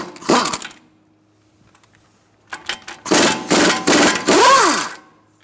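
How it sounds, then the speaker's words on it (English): A 21 mm socket and wrench turn strut bolts on a 2013-2022 Buick Encore, heard as a short metallic rasp, a pause, then several loud grinding ratchet bursts close by. "I'm going to use a 21 millimeter socket for both of these bolts and a 21 millimeter wrench on the head."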